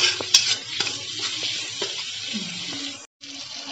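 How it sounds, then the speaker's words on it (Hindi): Loud sizzling and crackling of garlic, onion and green chili frying in a hot pan, with occasional stirring scrapes and a brief pause near the end. "हम ये लहसुन प्याज और हरी मिर्ची इसको फ्राई कर लेते हैं।"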